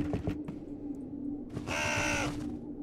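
A bird caws once in the horror video game Jisatsu, a short harsh call standing out over a steady low hum and faint background noise.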